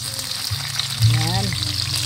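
Onions frying in a pan for Filipino pork adobo, a steady broadband sizzle with low hum beneath, swelling louder about halfway through as the onions hit the hot oil.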